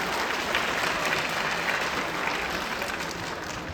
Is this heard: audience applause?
yes